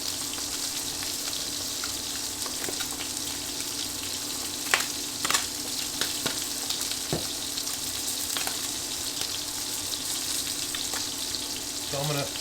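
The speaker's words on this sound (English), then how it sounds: "Get that skin nice and crispy" Chicken skin frying until crispy, a steady low sizzle with occasional sharper pops and crackles, fairly quiet and without talk.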